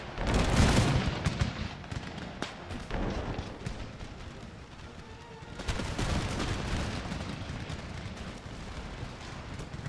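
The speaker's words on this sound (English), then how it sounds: "Firing explosive shots that way." Cannon fire with explosive shells in the Empire Total War game, heard as a loud burst of booming blasts at the start and more bursts midway, over a steady rumbling battle din.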